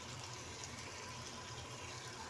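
Water trickles and splashes into a pan of potato and minced beef cooking on the stove, a steady faint pouring hiss throughout with no voices.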